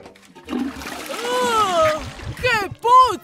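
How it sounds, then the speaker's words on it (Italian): A cartoon toilet flush in a bathroom, a short splashing gush of water mixed with animated character voices talking and exclaiming over it. "Tiro l'acqua ora!"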